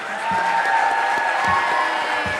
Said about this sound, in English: please give Kat and Greg a big hand of applause.